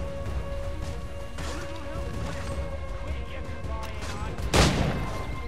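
Gunfire in the video game Assassin's Creed 3, set in Boston: a sharp loud shot cracks out near the end over a busy crowd and ambient game background.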